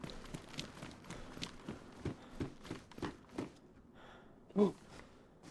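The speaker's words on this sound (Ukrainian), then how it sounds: "Хтось біжить." Footsteps of someone running in the survival game DayZ thud quickly and steadily at a moderate distance, quiet and rhythmic, before a single louder knock near the end.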